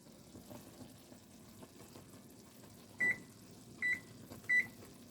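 A kitchen timer gives three short electronic beeps while set for one minute, close by over the low bubbling of jelly at a rolling boil on the stove.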